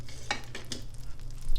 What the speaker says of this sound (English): I hear a little sizzle there